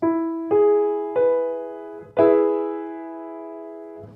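A major triad on a keyboard, a few separate strikes building to a bright full chord that rings out, then one more soft strike.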